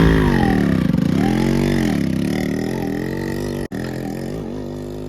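A motorcycle labours up a steep mountain road in a low gear, its engine note close and steady with rising and falling harmonics as the revs shift, one brief dropout near the end, with no talk over it.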